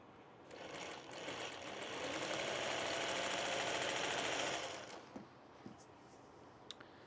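A sewing machine stitches two fabrics placed right sides together in one continuous, rapid, fairly quiet run, followed by a few light clicks.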